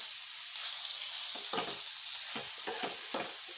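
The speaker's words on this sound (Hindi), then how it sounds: "अब मैं इसको फ्राई करूँगी।" Potato and egg omelette curry mixture fries in a pan with a steady hiss, broken by several short bursts of stirring and scraping that come in irregular pulses; no one speaks.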